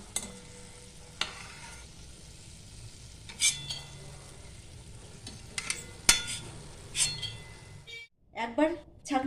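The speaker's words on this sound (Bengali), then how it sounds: "বেশ সুন্দরভাবে ভাজা হয়ে গেছে আমি এবার তুলে নিলাম" Boondi fries in a pan with a continuous close sizzle broken by repeated metallic scrapes and clinks of a ladle and utensils, while someone talks; the sizzle fades to sharper utensil clatter as the pieces are lifted out.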